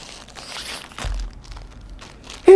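Doritos chip bag crinkling inside a movie theater: quiet, brief rustles and a soft crunch, with a sharper crinkle burst at the very end against a hushed background.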